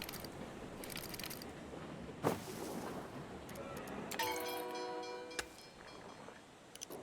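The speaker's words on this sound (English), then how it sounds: "Trains here." A train passing in a video game, heard as a faint rumble with tonal horn-like lines and a few clanks under quiet background sound.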